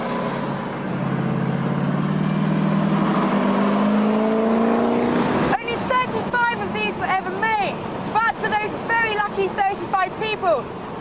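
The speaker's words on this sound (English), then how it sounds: "fire up the V8 and hear that fabulous rumble and snarl" A TVR's 4.5-litre V8 rumbles loudly for about five seconds, its snarl climbing steadily in pitch as it revs, before cutting off abruptly and giving way to someone talking.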